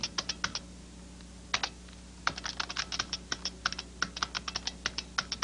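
Bursts of quick typing on a computer keyboard while entering a customer's name into a database program, close and clear over a low steady hum, with a brief pause before the keystrokes resume in a rapid run.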